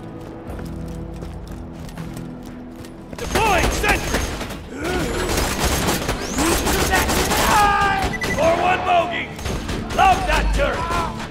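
A turret in Borderlands 2, during Mr. Torgue's Campaign of Carnage DLC, fires rapid, dense bursts that start abruptly and run for several seconds, mixed with explosions and game effects while someone shouts.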